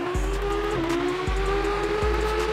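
Car in the Roblox Pacifico 2 driving game accelerating toward top speed, a continuous high engine whine with three quick drops as gears shift and some tire squeal, steady and without talk.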